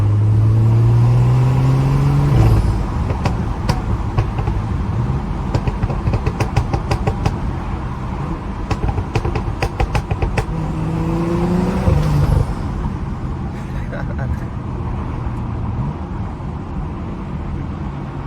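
Tuned BMW F30 driving with burbles set to maximum, engine revving and shifting with rising tones, followed by a long stretch of rapid crackling exhaust pops and burbles, loud and close.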